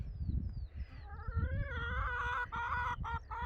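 Chickens clucking inside a garden chicken coop, close and fairly loud, with a rising series of drawn-out, tonal squawks and calls layered over low rustling, while faint bird chirps open the clip.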